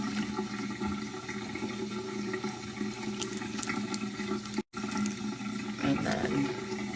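Running water flows steadily from a tap while someone wets their face at a sink during a skincare routine, a continuous close splashing hiss with small surges and a brief break midway.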